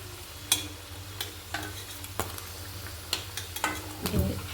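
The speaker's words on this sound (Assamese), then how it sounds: "এইখিনি একেলগে ফ্ৰাই কৰি লওঁ।" Bottle gourd frying in a pan for Assamese pitha, with a low steady sizzle broken by several sharp scraping and stirring clicks, close up with no talk.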